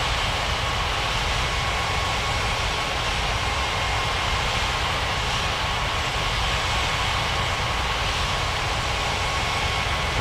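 Steady, loud broadband roar of airliner jet engines taxiing toward the runway in a flight simulator game, continuous and unchanging with no voices.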